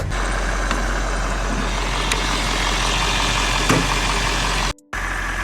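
Mercedes ML400 W163 V8 SUV idling with its engine cover missing: a steady, close, loud rumbling drone that holds evenly throughout and drops out for a moment near the end, with no talk.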